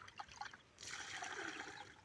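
Water pours steadily into a bucket, a soft trickle building to a fuller, continuous stream after a brief pause of quieter dribbling.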